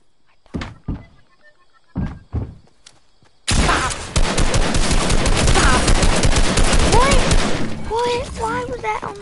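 Rapid gunfire from a shooter video game, a few sharp isolated shots first, then a sustained dense burst of automatic fire with game sound effects layered in, loud and close.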